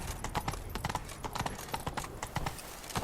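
Horse hooves galloping in The Witcher 3, a fast, steady clip-clop rhythm of rapid hoofbeats continuing throughout at close range, with no talk over them.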